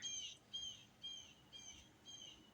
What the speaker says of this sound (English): they do love those bird sounds and stuff like that